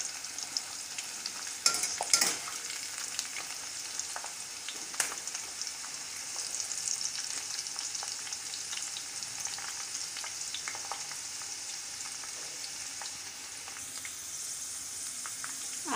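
Corn kernels fry in a pan with a steady, fine crackling sizzle that runs throughout, broken early on by a few louder pops and spatters.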